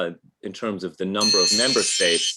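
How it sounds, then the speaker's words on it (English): A five-minute timer alarm goes off during a trade law discussion. Its high, bright ringing starts partway through and continues under a speaker who keeps talking. "That's my alarm for the 5 minutes."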